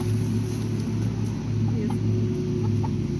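Chickens cluck nearby while scratching through grass clippings on a compost pile, over a steady low rumble, with occasional short calls breaking through the constant background.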